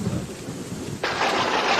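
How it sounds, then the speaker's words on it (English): In a Father Ted episode, a thunderstorm rumbles low before a sudden, loud hissing downpour of rain breaks in and continues steadily, with no voices. "Looks like rain, Ted"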